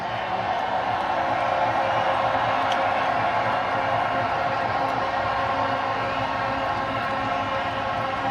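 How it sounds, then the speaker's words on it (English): A huge stadium crowd roars and cheers for Rohit Sharma and the Indian cricket team after their T20 World Cup win against South Africa, a dense, continuous wall of noise at steady loudness throughout. "Round of applause one more time for Rohit Sharma and his men"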